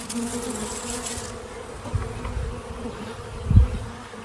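A small swarm of bees flies around a catch box near a tree limb, making a steady close buzzing drone with a couple of louder passes and bumps near the microphone.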